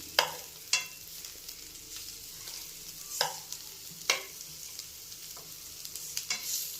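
Fish frying in masala sizzles steadily in a pan while it is turned over, with several sharp clinks and scrapes of a utensil against the pan, fairly close and without talk.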